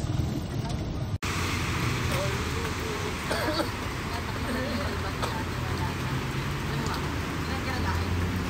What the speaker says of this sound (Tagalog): Grabe ba, lakas ng ulan mga boss.